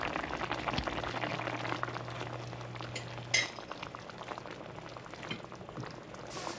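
Stew for Jamaican-style brown stew fish bubbles and simmers in a pot, with a low steady boil, soft liquid movement and occasional light clinks as it is stirred.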